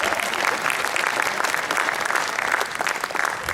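An audience at an IIT institute event applauding, a dense, steady roar of many hands clapping, loud and sustained throughout with no speech over it.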